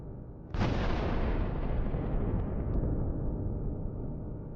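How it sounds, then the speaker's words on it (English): A UR-77 mine-clearing vehicle's explosive charges go off after a drone strike and fire: one sudden, massive blast followed by a long, heavy rumbling roar that slowly fades, with no talking. "This leads to a massive explosion."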